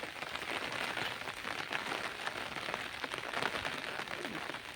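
Steady rain pattering on a surface, an even, dense patter of drops continuing throughout at a moderate distance.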